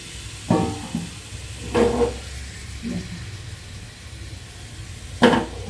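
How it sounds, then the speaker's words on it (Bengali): Stinging catfish seasoned with chili lightly frying in hot oil, a continuous soft hiss broken by several sharp spattering bursts spaced a second or more apart. "মাছটা আমি এখন ভেজে নেব। ফ্রাই তেল দিয়ে রাখছি।"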